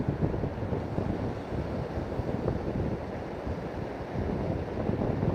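Outdoor wind blowing steadily from the west at about 10 to 12 miles an hour, a loud continuous rumbling buffet against the microphone with no talk.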